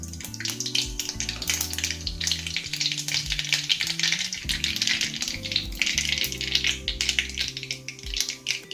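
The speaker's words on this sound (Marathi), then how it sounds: "मोहरी, जिरी तडतडली आहे" Mustard and cumin seeds crackling in hot oil in a kadhai, a steady bright sizzle with scattered pops, carried over a prominent background music track with no speech.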